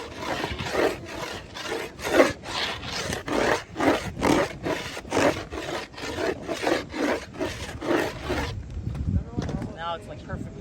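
Rhythmic back-and-forth rasping of a file or sandpaper rounding the nose and tail edges of a new skateboard deck, about fifteen steady strokes close up, then the scraping stops and a faint voice is heard.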